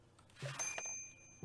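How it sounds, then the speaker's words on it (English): A hotel countertop service bell in Day of the Tentacle Remastered gives a single bright, ringing ding that sustains and slowly fades, fairly quiet against soft background sounds. "Go on, use that bell."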